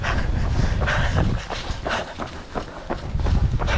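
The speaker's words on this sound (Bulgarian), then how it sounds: "Кучето иска да ги хване всичките." A dog runs and pants outdoors near a border crossing, its quick footfalls and breathing blending into a continuous loud rush of wind or motion noise, close and steady throughout.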